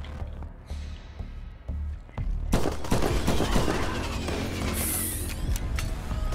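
Rapid automatic gunfire from a weapon in the sci-fi shooter From Space, loud and sustained bursts dominating the last four seconds after a quieter, scattered start, with clicks and mechanical rattles mixed in.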